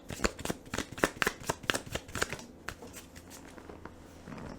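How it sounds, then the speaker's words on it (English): A deck of tarot cards being shuffled by hand up close, a quick run of crisp riffling slaps and flutters that slows and fades toward the end, with no talking. "Let's pull from another deck here."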